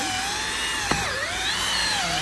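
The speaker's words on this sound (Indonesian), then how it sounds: "Drill biasa tapi untuk khas untuk eyelid." A power drill used for punching eyelet holes gives a steady high whine that dips and rises in pitch as it bites, with one sharp click near the middle. No one speaks.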